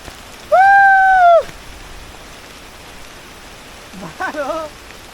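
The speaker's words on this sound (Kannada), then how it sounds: "ಮಳೆ ಬಂತು" Steady, dense hiss of rain falling along a trail to a waterfall, with two brief shouted voices cutting in, one near the start and a fainter one near the end.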